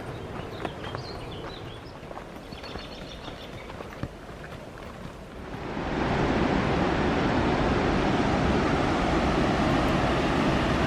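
A small waterfall on a forest hiking trail, at first a soft distant rush beneath scattered footsteps and rustling, then swelling into a loud, steady wash of falling water as it comes closer.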